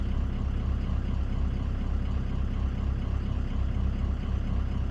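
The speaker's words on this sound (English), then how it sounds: "Start engine on low to idle. Now we're idling." A 2004 Ford F250 with a 6.0 Powerstroke diesel engine idles steadily, a continuous low rumble with an even rhythm throughout and no voices.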